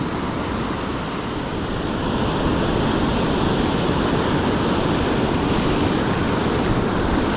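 Ocean surf heard from the shore during a fishing outing, a loud continuous broadband wash of breaking waves with wind rumble, steady and swelling slightly partway through.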